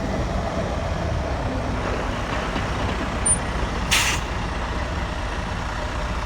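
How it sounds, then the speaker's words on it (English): A dump truck loaded with snow rolls past on a street in St. John's, Newfoundland, its engine a steady close rumble, broken near the middle by a sharp, loud hiss of the air brakes. "Seeing dump trucks full of snow coming through."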